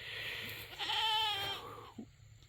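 Goats on a farm bleat in a wavering, nasal call that rises and falls for about a second, followed by a brief low grunt, heard at moderate distance over a soft outdoor background.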